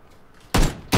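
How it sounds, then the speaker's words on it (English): Two sharp, loud gunshot cracks in PUBG, close by and about a third of a second apart, cutting through low background hiss with no talking. "Someone's firing at me"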